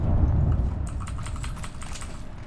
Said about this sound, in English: Can y'all hear my keyboard?